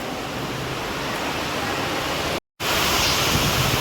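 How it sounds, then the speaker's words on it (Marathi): Dense, steady roar of heavy rain, loud and unbroken, cutting out briefly for a split second before resuming. "जाम पाऊस आला जाम पाऊस बेकारवाला"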